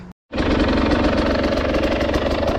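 Husqvarna 300 motorcycle engine running close by, starting after a brief gap and settling into a loud, steady, throbbing idle with a rapid pulsing rhythm.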